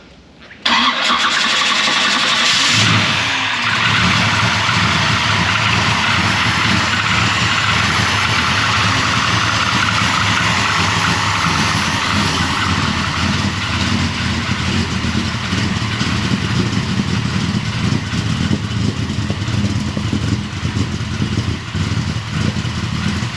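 A 1000-horsepower ZZ 632 engine in a 1992 454SS truck cranks over and roars to life, then holds a loud, steady, rumbling idle for about twenty seconds with no talking.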